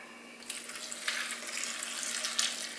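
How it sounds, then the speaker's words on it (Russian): Warm milk pours over crumbled matzo, a soft liquid splashing and trickling that swells and continues for a few seconds at close range, fairly quiet, with no talking. "заливаем теплым молоком"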